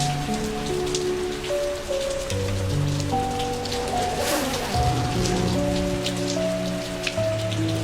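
Heavy rain falls at night, a continuous close patter of drops on surfaces with soft sustained music tones running underneath.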